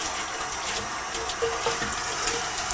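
Water sloshing and splashing inside a beer keg, a continuous hissy rinse with small gurgles, close by.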